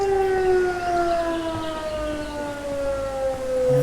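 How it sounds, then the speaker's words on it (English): A steady air raid siren wails continuously in Italy, warning of a water release, its tone sliding slowly downward, loud and sustained with no voices. "It's like almost like an air siren, like a siren going off, or like an air raid."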